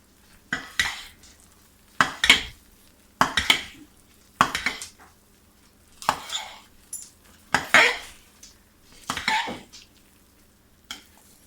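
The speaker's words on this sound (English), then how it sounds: "So we're going to stir this." Hot process goat milk soap with hard oils stirred in a pot, heard as seven or eight separate bursts of close scraping and clinking, with quiet pauses between each stroke.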